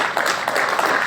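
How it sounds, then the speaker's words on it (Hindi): A brief stretch of steady audience applause at a sales talk, many hands clapping in a dense, even wash. "अगर आपको अच्छा लगे तो आप तालियां उनके लिए प्रेषित कीजिएगा जिनके माध्यम से मैंने ये सीखा है।"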